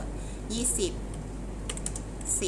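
Keys on a computer keyboard are tapped in short bursts while entering data into a spreadsheet, fairly close, alongside someone talking softly.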